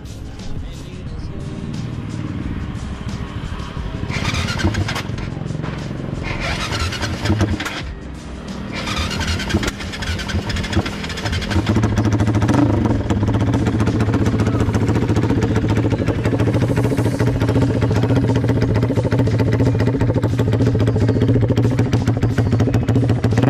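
A Yamaha MX King motorcycle with an APX exhaust cranks and sputters with some clatter, then catches and settles into a loud, steady, throbbing idle nearby.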